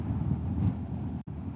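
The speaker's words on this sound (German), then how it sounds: "So, ist ganz schön windig jetzt geworden." Wind buffeting the microphone while riding a Vespa GTS scooter on a road trip, a loud, steady low roar with a brief dropout near the end.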